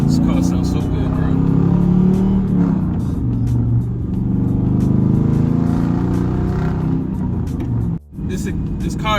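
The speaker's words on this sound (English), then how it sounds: "This car sounds so good, bro." A Lexus LS400 converted to a manual gearbox, its exhaust leak freshly welded, revs hard while driving. The loud engine rumble rises and falls through gear changes, with a brief dip in sound near the end, and someone talks over it.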